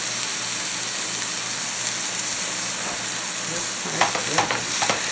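Egg roll filling fries in an oiled pan with a steady, even sizzle throughout, and a few sharper scrapes and stirring knocks come through near the end.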